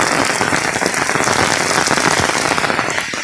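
Heavy evening rain pours down on a village in Ratnagiri, Konkan, a dense, steady roar of drops hitting surfaces, loud and close, with no voices.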